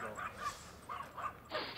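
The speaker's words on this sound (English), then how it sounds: "Oh, beagles." Beagles let out short yips and whimpers at close range, several brief high cries spread across the moment with a soft background hum beneath.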